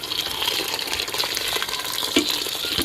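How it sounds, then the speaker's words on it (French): Boiling water poured into a pot of tomato sauce for a lamb trotter and white bean stew, a steady close-up splashing, hissing pour with faint stirring clinks, heard alone without talk. "je vais mettre de l'eau bouillante dans la sauce"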